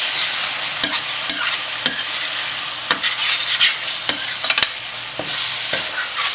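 Ridge gourd and dry prawns sizzle steadily in a pan while a spoon scrapes and stirs, striking the pan in sharp irregular knocks.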